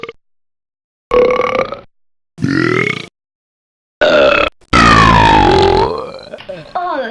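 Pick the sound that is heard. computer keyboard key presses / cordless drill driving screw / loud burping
loud burping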